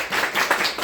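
Brief burst of clapping from a small congregation at a Sunday church service, welcoming guests, with no talk over it.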